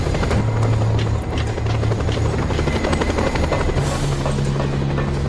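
A helicopter in the video game Just Cause 2 roars steadily and loudly close by, its dense rotor and engine noise continuous throughout with a low droning hum underneath.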